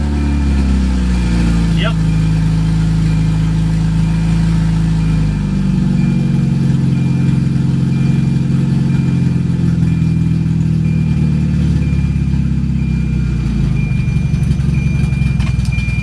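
A car engine with its fuel pump primed and an oil warning light on cranks to life, then settles into a steady, loud, close idle rumble, while someone speaks briefly over it.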